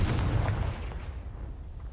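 A blast from the Confringo spell in Hogwarts Legacy, a single loud booming burst at the start that rolls off into a fading rumble.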